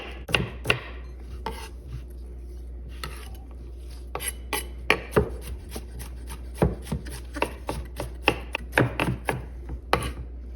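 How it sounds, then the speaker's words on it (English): Uneven knife chops strike a cutting board in irregular bursts as an onion is cut, close and crisp, with a steady low hum underneath and no talking. "First, we're going to cut up our onion."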